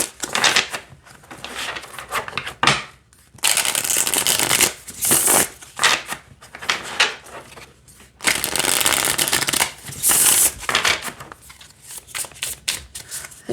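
A Spacious Tarot card deck being riffle-shuffled, in repeated bursts of dense, crisp card flutter and snapping, close and loud, separated by short quieter pauses of handling.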